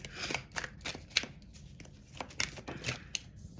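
Oracle cards are shuffled by hand in quick, crisp riffling bursts, soft and close, with a steady rapid flutter of card edges and no talking.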